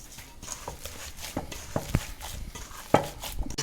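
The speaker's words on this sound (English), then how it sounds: "and give it a good mix." Meatball mixture with grated Parmesan being mixed by hand in a bowl, soft squelching and kneading with occasional knocks against the bowl, close and moderately loud.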